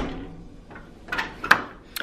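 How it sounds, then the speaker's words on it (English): A hotel room door at Caesars Palace in Las Vegas swings shut, ending in a few sharp clacks and a latch click close by in a quiet room. "let me close the door."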